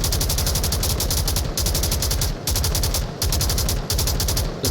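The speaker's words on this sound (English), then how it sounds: "Vas-y, commence à tirer." Rapid automatic gunfire from the VR shooter Onward, played in a competitive match, in continuous loud bursts with only a few brief pauses between them.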